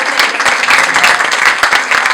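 A room of people at a makeup master class in a salon breaks into applause, a continuous loud patter of many hands with sharp individual claps standing out throughout.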